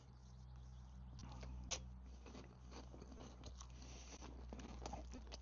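Soft crunchy chewing of an item from an Estonian army ration pack, No. 10, a run of faint bites and mastication close to the mouth over a low steady hum, no talking.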